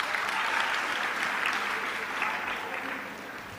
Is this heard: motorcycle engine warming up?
no